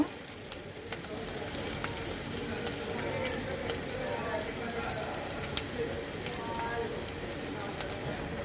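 Onion and onion paste frying in a pan for a chicken curry, giving a steady, close crackling sizzle that stays even from start to finish with only small pops.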